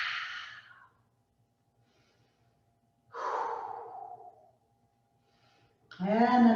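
Slow, audible exhalations during a yoga stretch, three separate breaths spaced a few seconds apart, close and fairly loud with quiet pauses between them.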